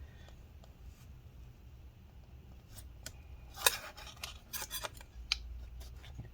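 Cutting inside a 2012 15-inch Retina MacBook Pro A1398 during battery replacement, with faint scraping and several sharp clicks and snips, clustered mostly in the second half over a quiet background.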